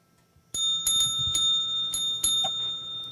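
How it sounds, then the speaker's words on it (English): A small bright bell rings several times in quick succession, sharp repeated dings with a sustained ringing tone, close and clear, with no talking. "I know that's overuse of the bell"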